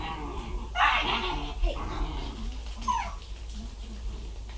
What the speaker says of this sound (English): Puppies being puppies.